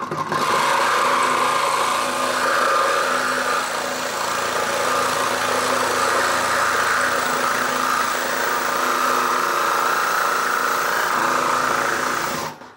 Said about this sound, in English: now I can start bringing the drill up to square and level